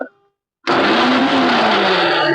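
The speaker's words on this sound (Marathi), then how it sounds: "मिक्सर मधून मी एक गरका देऊन फक्त" A kitchen mixer grinder bursts on after a brief pause to coarsely pulse green chillies and garlic, running loud and steady with a whirring motor whine and rattling contents for about two seconds.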